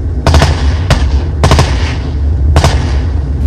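Gunfire in a locality of the Ndonga-Mantoum department in Cameroon's North-West region: several sharp, loud bursts of shots at irregular intervals, standing over a constant low rumble.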